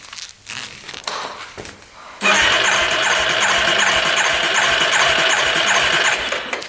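An ATV engine cranks with the throttle open during a compression test, starting after a couple of seconds of handling noise into a steady, loud, rapid chugging rhythm that continues to the end.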